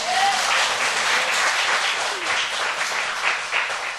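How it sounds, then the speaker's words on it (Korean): Sustained audience applause fills the hall at a church sermon, a dense, loud wash of clapping hands that continues steadily throughout with no voices on top. "박수 한번 쳐줘요."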